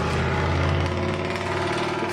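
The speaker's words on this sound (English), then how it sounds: "Some people think they need to drive really loud trucks and motorbikes and stuff on this road." A loud engine from a truck or motorbike passing on a road outside, a steady harsh drone with strong low harmonics filling the whole moment, with no talk over it.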